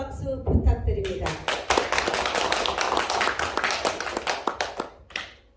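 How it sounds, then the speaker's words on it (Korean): An audience at a gender-equality citizens' talk event claps together, starting right after a voice and rising into brisk applause that tapers into a few scattered final claps. "모두 큰 박수 부탁드립니다."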